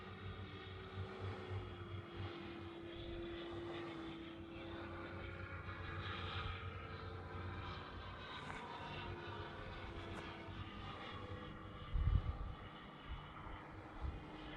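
A Seagull Models T-6A Texan II RC plane, powered by an electric Power 90 motor on 8S at about half throttle, flies with a steady, even drone that carries through the whole stretch, with a few small bumps in level and no talking.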